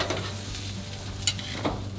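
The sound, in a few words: pork tenderloin sizzling on the grill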